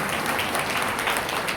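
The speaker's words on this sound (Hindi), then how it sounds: "जोरदार तालियों से विदा कीजिए।" A brief, dense burst of loud clapping from a gathered crowd sends off a poet after a recitation, close and continuous with no pauses.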